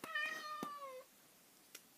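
A single house cat meows once, a short, faint cry in a quiet room, followed by a brief soft knock near the end.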